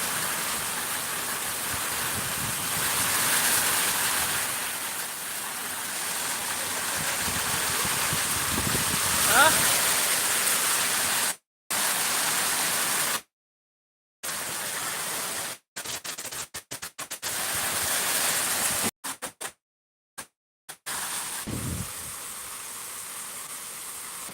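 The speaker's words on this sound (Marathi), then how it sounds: "अर्धा तास जबरदस्त पाऊस पडला" Heavy rain pours down over open farmland, a steady broadband hiss that holds loud and continuous before breaking into repeated cutouts and dropouts in the second half, with a voice briefly audible.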